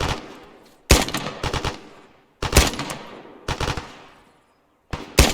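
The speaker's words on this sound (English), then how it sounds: "Bravo, maintain your suppressive fire from this position." Loud, close automatic gunfire during infantry movement and assault training, rattling out in several rapid bursts separated by brief pauses as suppressive fire is maintained.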